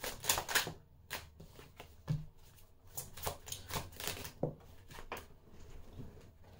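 Tarot cards being shuffled and pulled from the deck, a quick run of dry papery riffles and flicks in bursts, close and moderately loud, with no talking.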